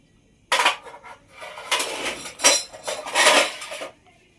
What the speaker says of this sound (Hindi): मैं अपने ही धुलवा रही हूँ आपसे बर्तन।